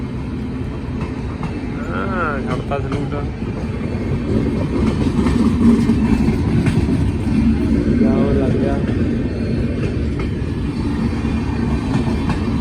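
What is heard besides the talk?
train passing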